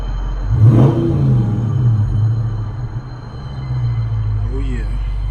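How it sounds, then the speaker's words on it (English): A 2019 Dodge Charger Scat Pack engine rumbles low and steady, swelling briefly as it revs, with a deep exhaust drone throughout. "get a sound of that exhaust"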